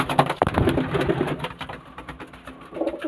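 Chennai beat pigeons coo in a close, busy chorus of throaty rolling calls, with wing shuffles and small knocks scattered through.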